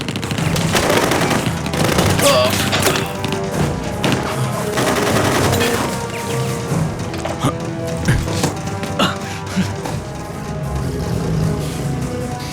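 Dense, sustained gunfire in a Hindi-dubbed war action movie, loud bursts of automatic fire and thumping impacts layered over a constant battle soundtrack with no clear pauses.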